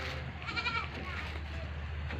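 Goats bleat in a farm pen, several wavering calls overlapping close by against a dense, noisy background.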